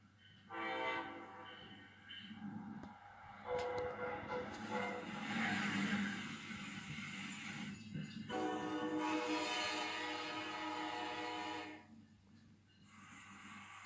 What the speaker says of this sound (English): The ACS-64 comes equipped with a Nathan K5LA air horn.